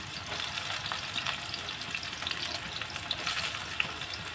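Chopped onion sizzles steadily in a hot pan for a meat and bottle gourd curry, a continuous bright crackle with a few sharper pops and faint stirring, no voices.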